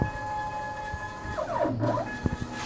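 Homemade 50 by 100 inch CNC router table on Hiwin linear rails with 1605 and 2525 ballscrews running at rapid speed, steady motor whine and tones sweeping up and down as the axes accelerate, with a few sharp clicks near the end.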